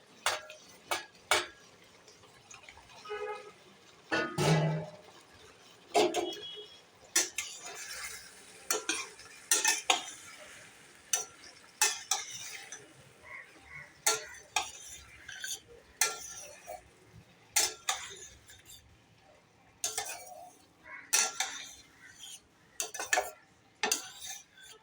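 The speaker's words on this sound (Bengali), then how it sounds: "এই সবজিগুলো একটু ভেজে নেব।" Lightly steamed vegetables for Thai green curry are stirred and fried in a pan. A utensil scrapes and clinks against the metal in irregular bursts over a faint background with no talk.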